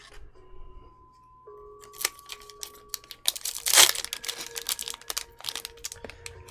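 Pokemon card pack wrappers crinkle and tear close up as cheap dollar-store packs are opened, a burst of crisp crackling swelling to a loud rip midway, then scattered rustles and ticks, with faint tonal hum in the background.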